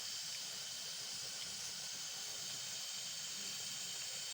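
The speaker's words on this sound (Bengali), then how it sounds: "আমার পুরো জলটা ফুটে গেছে" Water boils in a pot on the stove, a constant airy steam hiss with low bubbling underneath that holds steady, then cuts off abruptly.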